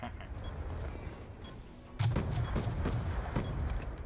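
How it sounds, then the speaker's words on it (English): Hellstorm missile strike in Call of Duty Hardpoint on the Standoff map, a sudden heavy burst of close explosions and rolling gunfire that starts midway and stays loud over dense game noise. "Hellstorm missile inbound."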